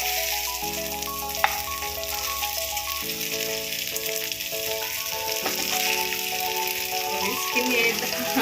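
Mackerel frying on a tava over a medium flame, giving a steady close sizzle throughout with faint stirring and clinks.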